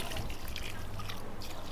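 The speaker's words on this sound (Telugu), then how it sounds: "అన్ని వాటికి కూడా నీళ్ళు అయితే వేసేద్దామండి" Water trickles and splashes onto potting soil in bags planted with turmeric, a close, continuous liquid pour with no talking over it.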